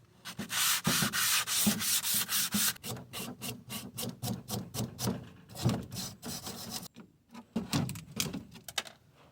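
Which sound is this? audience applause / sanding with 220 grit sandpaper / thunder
sanding with 220 grit sandpaper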